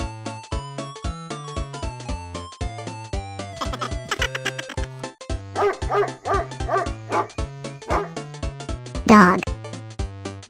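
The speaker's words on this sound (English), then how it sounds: "Dog." A dog barks and yips in short bursts over a bright, bouncy children's tune, the animal calls rising above the steady plucked notes, with a sharper bark toward the end.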